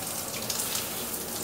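A hotel shower head runs with weak water pressure, giving a steady hiss of spraying water that stays close and continuous with no voices.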